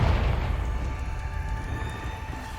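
A Confringo fire spell is cast in a video game, opening with a loud booming burst that trails off into a fading, rumbling fiery roar.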